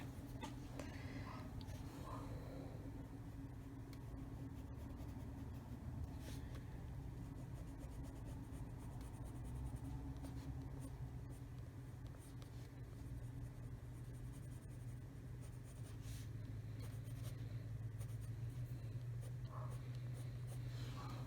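A black Prismacolor waxy colored pencil scratches steadily across paper, giving a continuous close, faint scratchy coloring sound under a low background hum.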